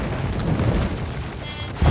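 Aircraft bombs bursting in a naval battle game, a low rumbling boom rolling on for a couple of seconds with a fresh thump at the very end, moderately loud and without talk.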